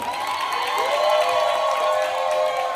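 Church congregation cheering and shouting praise together at a pastoral anniversary service, a sustained, dense crowd roar with whoops that holds steady throughout.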